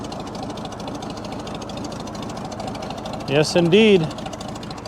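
A 1937 Oliver Hart Parr 70 tractor engine runs steadily with a low, rhythmic knocking throughout, close and continuous, while someone speaks briefly over it near the end.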